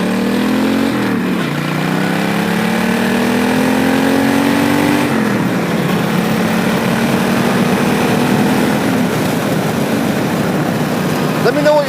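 A 1996 Suzuki Intruder VS1400 V-twin motorcycle pulls away, its engine droning and rising through gear changes with steady pitch climbs, loud and close from start to finish.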